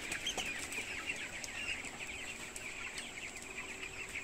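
Stressed chickens clucking steadily in a coop, just after the rice-husk litter has been cleared out, a dense overlapping chorus of calls at a moderate, even level with no voices.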